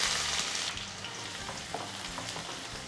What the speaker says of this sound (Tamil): இந்த வெங்காயத்தை நீங்கள் ஒரு 3 நிமிஷம் நீங்கள் வதக்கணும்